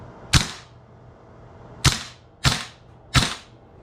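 Four sharp, snappy reports from a VFC XM177E2 airsoft rifle fitted with a flash hider and scope, fired singly and irregularly, close and loud, each with a quick decay and no talking.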